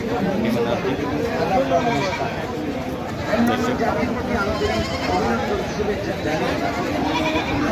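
Several goats, including Kashmiri goats, bleat repeatedly over a busy background of people talking, the calls overlapping from near and far in a crowded livestock market at Baneshwar.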